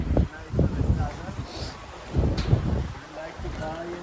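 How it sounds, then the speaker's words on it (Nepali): Cold wind gusts across the Dodhara Chandani bridge, buffeting the microphone in uneven rumbling bursts while people talk. "चिसो हावा चलिरहेको छ"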